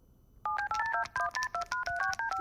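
A quick run of about a dozen dual-tone phone keypad beeps, evenly paced and moderately loud, with no talking.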